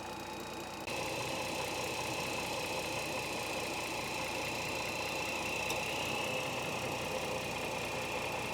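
A Dodge Challenger engine idles steadily after a new alternator install, a continuous mid-pitched hum with a faint high whine, moderately close and alone with no talk.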